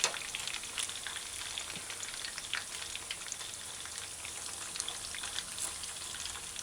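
Fish chunks fry in a pan for a fish and baked beans stew, giving a steady close sizzle sprinkled with quick pops and crackles, with no talking.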